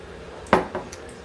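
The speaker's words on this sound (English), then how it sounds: "And we're going to add our carrots." Carrots tumbling into a pot of beef stew, a single fairly loud clatter followed by a couple of softer knocks and light settling sounds, with no voices.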